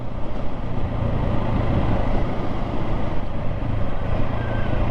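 A KTM 690 SMC-R single-cylinder supermoto motorcycle being ridden, its engine drone and road noise steady and loud throughout with a low throbbing hum and no speech.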